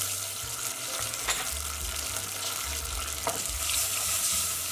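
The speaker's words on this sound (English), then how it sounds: "Let's just mix that all together." Buffalo sauce with honey, apple cider vinegar and Worcestershire being stirred in a hot pan, a steady bubbling sizzle throughout with a soft scraping stir and a low rhythmic thump beneath, nobody talking.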